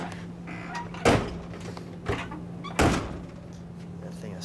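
Two solid thumps of a 1960 Edsel Ranger convertible's door being shut, about two seconds apart, sounding close over a steady low hum, with the second slam slightly sharper.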